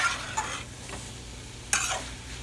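Haitian macaroni au gratin stirred in a pot on the stove, a couple of close scraping strokes over a soft, steady cooking hiss.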